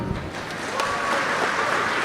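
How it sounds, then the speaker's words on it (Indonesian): Audience applause at a graduation ceremony of a state polytechnic, a steady dense wash of many hands clapping throughout, fairly loud and even, with no talk over it. "Bapak Ibu tepuk tangan dulu."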